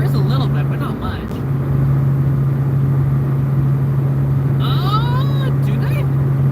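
A 1981 Ford Mustang cruising home on the road, a steady droning engine hum with road rumble heard from inside the car, continuous and fairly loud, with brief tonal squeaks partway through.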